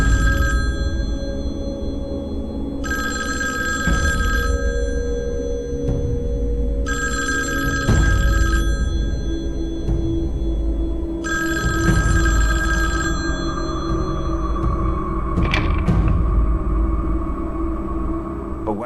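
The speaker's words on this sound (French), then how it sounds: "quand le téléphone a sonné" A telephone bell rings in four long, loud bursts separated by pauses, over a steady low rumble, with no voices.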